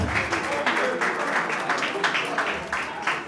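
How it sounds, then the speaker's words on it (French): Applause acclaiming a member at a membership card ceremony: a crowd claps in a dense, steady rhythm for several seconds, with a voice speaking over it. "Est-ce qu'on peut l'acclamer très fortement? On l'acclame."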